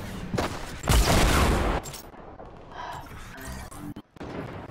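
Gunfire in the Fortnite video game: a loud burst of shots near the start, then quieter clicks and mechanical rattles with faint background noise and no talking.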